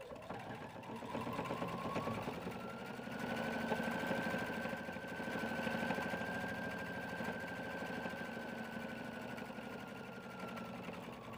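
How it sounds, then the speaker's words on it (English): A sewing machine runs steadily, a rapid mechanical chatter with a faint whine, fairly quiet and close, with no talking. "step to our sewing machine and sew an 1/8 inch around all four sides"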